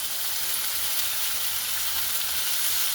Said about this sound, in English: And it's going to sear it on the side, get it a little bit brown.